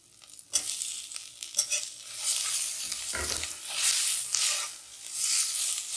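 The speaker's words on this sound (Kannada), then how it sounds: "ಇದು ಫ್ರೈ ಮಾಡ್ಕೊಳ್ಳೋಣ ಸ್ವಲ್ಪ. ಈಗ 1 ಟೊಮೆಟೊ" Chopped tomato hits a pan of hot oil with poppy seeds on low flame, sizzling and frying with a few stirring clatters, a soft steady crackle throughout with no talk.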